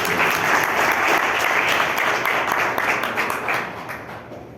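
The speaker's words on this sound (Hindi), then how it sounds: "मैं चाहूंगा सब एक बार ताली बजाएं आप मेरे।" Audience at a swearing-in ceremony in Udaipur breaks into loud, sustained applause, a dense wash of clapping that stays strong and then gradually thins and fades toward the end.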